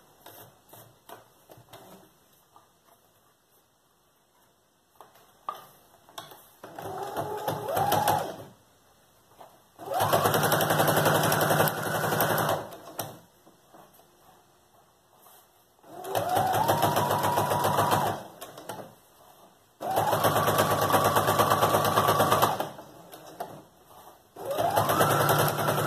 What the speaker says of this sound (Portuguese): E vou só passar a costurinha aqui por cima